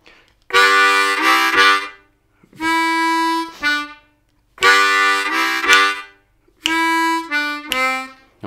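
A harmonica plays a chugging call-and-response lick in four rhythmic phrases, alternating blow and draw notes, each burst separated by brief silences, loud and close with no voices.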